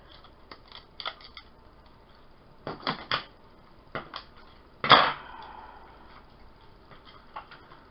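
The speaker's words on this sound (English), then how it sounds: "let's see if we can cut these off with scissors" Scissors snipping off plastic spoons for a sunflower wreath craft, giving a series of sharp, close clicks and snaps scattered irregularly, with one louder crack near the end followed by a brief rattle.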